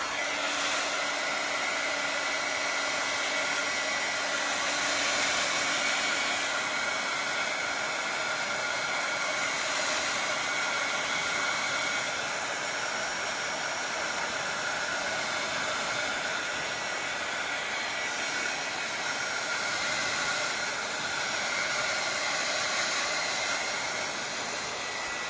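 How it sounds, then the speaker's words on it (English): A hair dryer runs steadily and loudly at close range, an unbroken high whooshing whine of blown air lasting throughout with no pauses and no talk. "okay, I'm going to use my dryer, so it's going to be loud for a minute"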